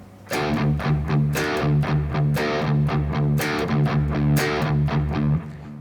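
Distorted electric guitar chugs in a steady palm-muted rhythm, with a brighter accented strike on beat one returning regularly at the start of each beat group. No voices.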